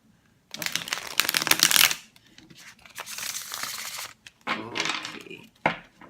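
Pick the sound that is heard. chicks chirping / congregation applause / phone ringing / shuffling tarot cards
shuffling tarot cards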